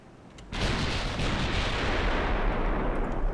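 Battleship guns in Ultimate Admiral: Dreadnoughts fire shells in a sudden loud roar that starts after a short quiet moment and then runs on as a dense, rumbling barrage with no pause.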